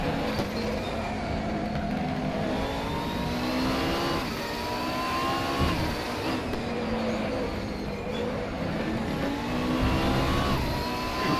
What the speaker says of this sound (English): I think I'm driving a Honda F1 engine.